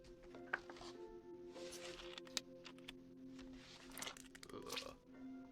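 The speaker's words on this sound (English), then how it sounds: "I kept eating and eating." Crunching bites and chewing from the video game What Remains of Edith Finch, faint, irregular crisp crackles scattered through the stretch beneath a quiet game backdrop.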